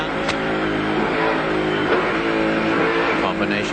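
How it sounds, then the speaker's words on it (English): A Ford touring race car at Bathurst during the 1995 ATCC round, accelerating through its six-speed gearbox: a continuous, loud engine roar that rises and shifts, with a commentator talking over it throughout. "you hear him hitting the gas pedal, using that 6-speed gearbox, coaxing it around"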